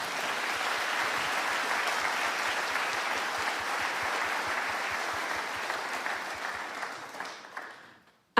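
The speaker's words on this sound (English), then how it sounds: "Can we have an applause for our supporters?" A seated audience at a classic yacht symposium applauds its supporters, steady dense clapping from many hands that holds for several seconds before thinning and fading out near the end.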